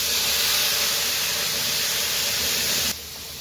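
Garlic, onion and green chili paste sizzles in hot oil over a clay stove, a loud, steady hiss held for about three seconds before it suddenly drops to a quieter sizzle.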